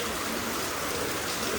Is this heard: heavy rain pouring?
yes